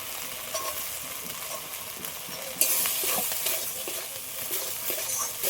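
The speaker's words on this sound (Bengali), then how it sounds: "সবগুলো একসাথে ভালো করে একটু ভেজে নিয়েছি" Onion and spices, including Kashmiri chilli powder, frying together in a pan for chickpea dal curry, with a steady broadband sizzle and scraping stirs throughout that grow louder about halfway through; no voices.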